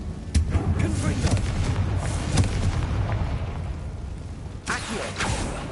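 In Hogwarts Legacy, a Confringo fire spell bursts with heavy, booming blasts, one sharp hit early and another loud burst near the end, over continuous game rumble and speech.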